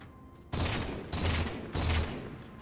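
Three heavy bursts of gunfire from a big gun in Halo 4, each a loud sharp volley fading out, evenly spaced about half a second apart, with no talking.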